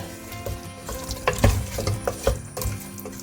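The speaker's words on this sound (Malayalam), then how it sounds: "ഇനി നന്നായിട്ട് ഇളക്കി യോജിപ്പിക്കാം നമുക്ക്." Chicken curry with yogurt being stirred in a pan, spoon scraping in a few loud clattering strokes over a low steady sizzle, close by and with no talk.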